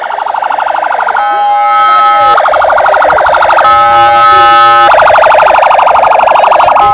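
Ambulance and police sirens sounding outside Stade des Martyrs in Kinshasa, loud and close, with steady wailing tones that switch pitch pattern every second or so over a continuous crowd-like background, no talk.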